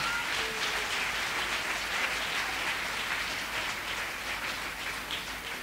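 Steady broadband applause from a church congregation, many hands clapping together in a dense, continuous wash that holds at an even level throughout.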